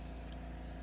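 A steady hiss of spray paint onto a fishing lure over a low constant hum, with a brief sharper burst about a third of the way in.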